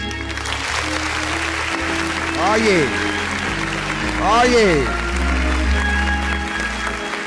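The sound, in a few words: audience applause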